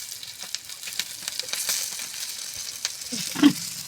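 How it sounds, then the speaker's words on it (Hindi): Green chillies fry on a hot tawa griddle, giving a soft continuous sizzle with light crackles and a brief louder scrape near the end. "मिर्ची फ्राई हो चुकी है। अब दूसरी साइड को फ्राई कर लेना है।"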